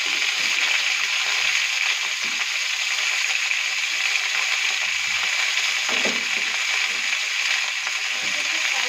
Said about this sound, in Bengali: তেলটা গরম হয়ে গেছে